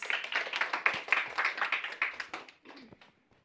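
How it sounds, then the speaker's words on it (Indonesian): Students clap for a university student group presenting in a classroom, a quick burst of close hand claps lasting about two and a half seconds before fading out. "beri tepuk tangan yang meriah kepada kelompok 12"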